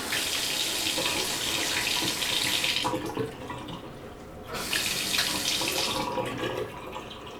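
Water runs steadily from a bathroom faucet fitted with an aerator, a close, even hiss that dips briefly mid-way before returning to full flow.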